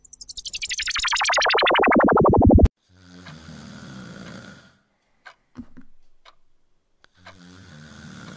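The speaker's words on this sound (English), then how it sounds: "Is there a snorer in your bedroom?" A man snoring in a bedroom: after a rapid electronic descending sweep, two rough, rasping snores sound with a quiet gap between them and a few faint clicks, close and moderately loud, with no speech.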